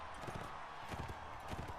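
Horse hooves pound in a rapid galloping clip-clop during a tournament in the video game Mount & Blade Warband, heard over a steady bed of game background noise.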